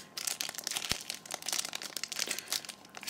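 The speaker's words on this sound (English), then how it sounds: "let's just rip this open" Packaging of a Zoom H2n accessory pack crinkles and rustles up close as sellotape is pulled and torn away, with one sharp thump partway through; faint and busy.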